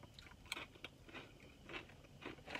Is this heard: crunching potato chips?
yes